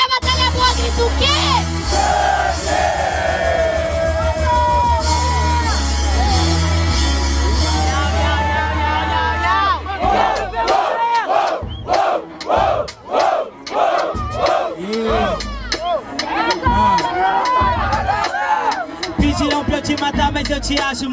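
A crowd at a Brazilian rap battle final in Barueri, São Paulo, roars and chants loudly and continuously, then the din breaks into rhythmic bursts of shouting and cheering that keep rising and falling, with voices mixed in.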